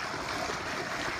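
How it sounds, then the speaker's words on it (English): Water rushing and splashing against the bow of a Hobie trimaran sailing downwind on Lake Superior, a brief, soft, continuous wash with no talk. "Nose of my boat pretty much just eats up water."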